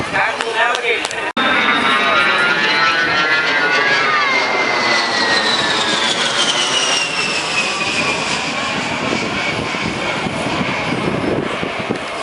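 A-10 Thunderbolt jet making a low tactical pass at the Toronto air show, a loud continuous engine roar with a sweeping, shifting whine that builds and holds for the whole stretch, with an announcer's voice over it.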